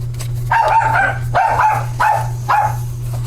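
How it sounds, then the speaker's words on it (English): Small dogs bark in short high yapping bursts, about four outbursts in a row, muffled as if from another room, over a steady low hum. "That's my little dogs upstairs barking."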